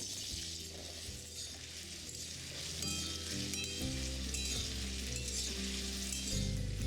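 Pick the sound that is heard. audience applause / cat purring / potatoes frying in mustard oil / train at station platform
potatoes frying in mustard oil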